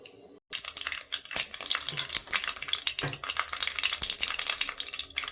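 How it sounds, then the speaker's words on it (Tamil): Mustard seeds and cumin spluttering in hot oil in a kadai, a dense run of close, crackling pops and sizzle that carries on steadily with no talk. "கடுகு பொறிஞ்சிட்டு இருக்குது"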